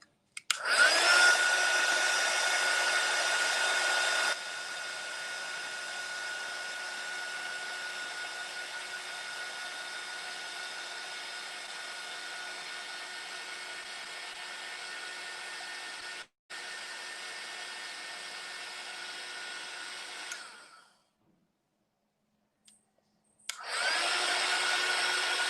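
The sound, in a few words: drying crafts with a hair dryer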